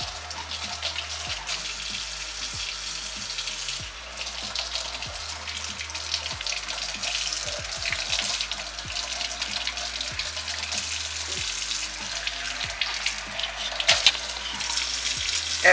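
Lukewarm tap water runs steadily into a kitchen sink as a clay face mask is rinsed off, a continuous hiss of flowing water with splashing and dripping from hands.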